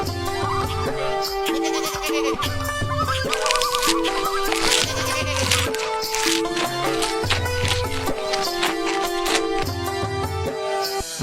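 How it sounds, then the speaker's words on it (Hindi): Cartoon goats bleat repeatedly over loud, steady background music, with the wavering calls rising and falling throughout. "अभी तो मेरी दोनों बकरियां यहाँ घास चर रही थी"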